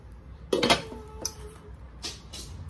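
Several close metallic clinks and clatters as Brinox stainless steel pot lids are picked up and set down, with brief ringing tones between the knocks.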